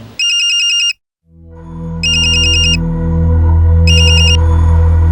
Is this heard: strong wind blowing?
no